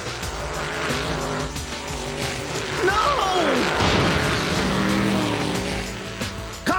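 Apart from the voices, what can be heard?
cartoon dune buggy driving off with skidding tires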